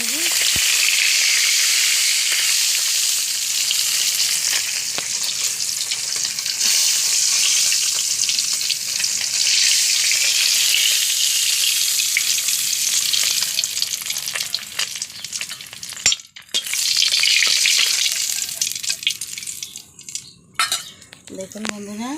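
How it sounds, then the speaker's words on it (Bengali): Small puti fish fry in hot oil with a loud, steady sizzle that runs almost throughout, broken by a few sharp clinks and scrapes of a utensil against the pan near the end. "মাছগুলো সামান্য ভেজে তুলে নিয়েছি"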